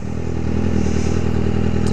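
A motorcycle engine runs steadily at idle, close and loud, with an even, throbbing low rumble and slight mechanical clatter and no change in pitch.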